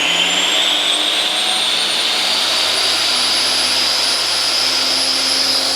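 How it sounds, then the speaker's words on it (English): Miter saw running on a Fossibot F2400 portable power station: a loud, steady high-pitched motor whine holds throughout with the pitch creeping slightly upward, no cutting or voices heard. "And now let me turn on my miter saw."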